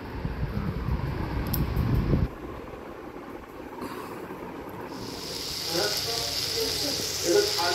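Sliced potatoes and okra fry in a pan on a home stove, giving a steady, close hiss of sizzling oil that changes in tone partway through and continues to the end.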